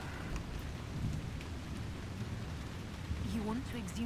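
Steady rainfall hisses in the video game Dragon Age Inquisition, with a low rumble of thunder underneath and faint tonal sounds near the end.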